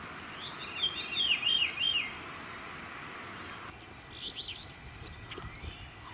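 A woodland songbird sings a short descending, spiraling phrase, faint and fairly distant over quiet outdoor ambience, followed after a pause by softer scattered bird notes.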